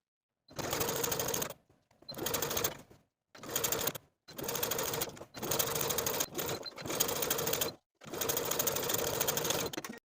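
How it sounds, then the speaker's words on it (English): A sewing machine edge stitches a folded crease on a 1940s-style blouse with a quarter-inch seam allowance, running in about six steady bursts separated by short pauses, close and alone. "I'm going to edge stitch from one center back edge with a 1/4 inch seam allowance"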